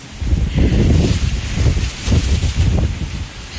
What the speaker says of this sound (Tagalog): Snowstorm.